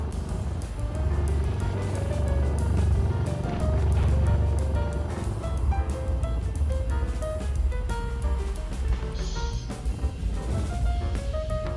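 Vehicle driving in the Scrap Mechanic survival game, a continuous engine drone with shifting tonal pitches and rumble, steady and moderately loud throughout, no talk.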